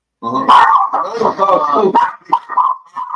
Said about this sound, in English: This dog don't like nobody.